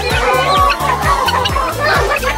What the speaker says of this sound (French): Et là, il y a les petites poules.